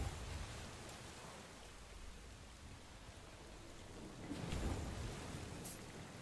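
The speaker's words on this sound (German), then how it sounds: "Ist ja auch egal, auf jeden Fall regnet es." Rain falls steadily as a faint, even hiss in the video game Last Epoch, with a low rumble of distant thunder swelling briefly near the end.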